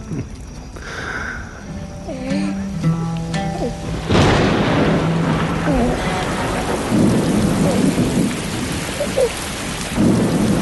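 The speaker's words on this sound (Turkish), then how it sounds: "Bu yağmur yanında getirdiğim berekettir oğlum." Steady rain falls with a loud crack and rolling rumble of thunder partway through, following softer earlier sounds.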